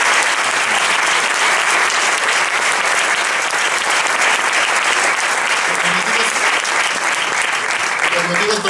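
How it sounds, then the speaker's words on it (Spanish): Audience applause at an anniversary concert by a band in León, a loud, dense and sustained ovation from a large crowd, steady throughout with faint voices mixed in. "te mereces también un reconocimiento y un aplauso de los todos aquí presentes"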